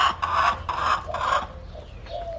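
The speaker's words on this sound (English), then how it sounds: "Crazy chicken." A chicken clucks in a run of loud, close, repeated bursts, then trails off into quieter calls; no talk over it.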